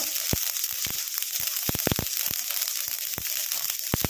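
Mustard seeds crackle in hot oil over a low flame: a steady sizzle broken by many sharp, scattered pops heard up close.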